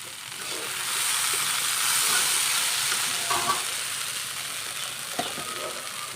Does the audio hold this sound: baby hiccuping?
no